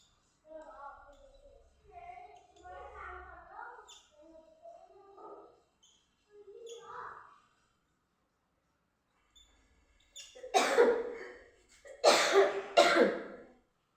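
A person with a sore throat talks quietly at first, then lets out two loud, harsh coughs in quick succession near the end, close to the microphone.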